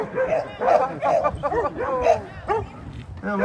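Several dogs in costumes on a Halloween dog walk bark and yip repeatedly outdoors, close and fairly loud, with people talking underneath the excited barking.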